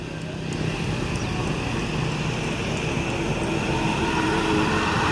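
Exhaust of a Mercedes 1626 bus, a steady broadband roar with low rumble and wind rush, continuous and fairly loud from close by.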